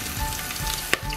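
Onion fries in hot oil with black cardamom, cloves and cinnamon, making a close, steady sizzle with a single sharp clink of a spoon near the end.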